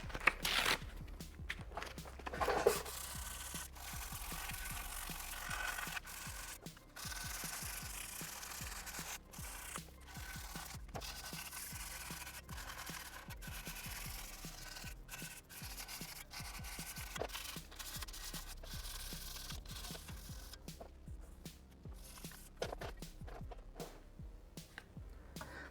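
Fine 320 grit sandpaper rubs steadily over scratches on a BMW G310R motorcycle exhaust, a soft, close, continuous rasp in rhythmic strokes with no talking.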